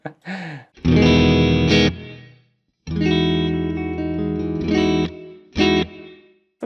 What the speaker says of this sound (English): I like the plate style reverb, so I'm happy there's one in this plugin.